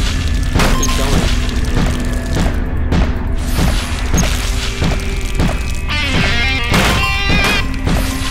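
Cannonballs crash and boom repeatedly in the video game 99 Levels To Hell, a dense run of loud thuds and impacts at an irregular rhythm, layered over steady game music and noise with no voices.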